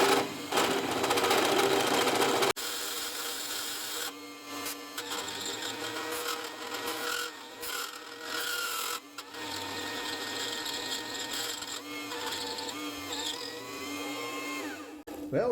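A power drill bores holes in metal for ladder bar brackets on a custom S10 truck, with a loud, close grinding whine that is harshest in the first seconds and then settles into a steady, slightly wavering drone.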